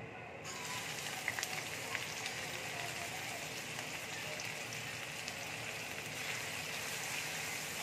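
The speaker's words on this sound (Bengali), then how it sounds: "পেঁয়াজটা লাল করে ভেজে নেব।" Steady crackling sizzle of onions frying in hot oil with whole spices, continuous and close, with a few sharper pops scattered through it.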